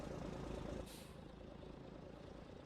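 A truck's air brake in the video game Farming Simulator 19 releases one short, sharp hiss over the steady low drone of its idling engine.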